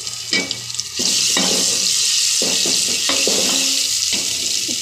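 Chopped onion dropped into hot oil for chicken biryani, a short clatter and then a loud, steady hiss of frying, broken by a few stirring scrapes.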